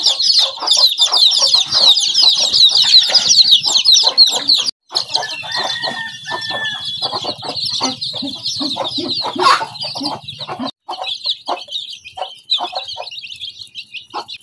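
Desi chickens on a farm cluck and chatter continuously up close, a dense, busy flock with overlapping calls and an occasional rooster crow.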